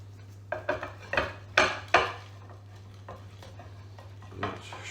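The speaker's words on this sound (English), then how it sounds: "now let's mix this all together so we get a nice, lovely dough" A whisk mixes cookie dough in a bowl, scraping and clinking against the sides in a series of uneven strokes, close and fairly quiet over a steady low hum.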